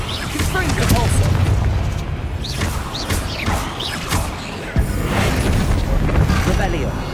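Booming spell explosions from Hogwarts Legacy's Confringo in a fight against spiders, heavy rumbling impacts and crashes layered under constant battle noise while a voice talks.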